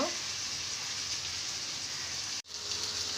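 Chicken frying in a pan for homemade chicken pasta: a steady, close, even sizzle with a very brief dropout partway through.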